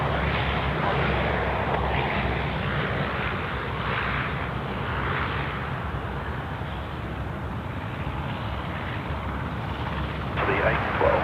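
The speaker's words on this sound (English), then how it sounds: "Qantas 12 from Los Angeles. 2 miles to run. Finals, runway 34 left" Qantas airliner from Los Angeles on final approach to runway 34 left at Sydney Airport, a steady, broad jet engine roar with a spoken voice over it, constant and fairly loud throughout.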